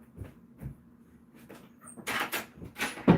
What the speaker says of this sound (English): Can I close the door now?